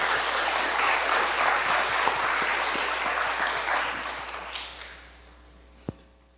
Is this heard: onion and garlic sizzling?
no